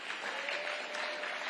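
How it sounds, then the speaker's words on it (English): Audience applause at a political speech, a steady wash of clapping from many hands filling the whole moment, fairly loud and even with no voice over it. "Yeah, clap it up."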